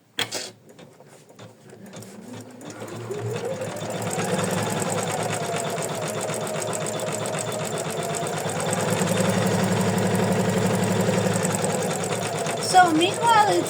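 A home embroidery machine stitches a motif on a wheat-heart design in the hoop, with a rapid, steady mechanical whir that builds after a quiet start and keeps running loud and close, ending in a few clicks.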